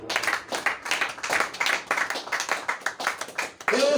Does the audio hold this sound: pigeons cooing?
no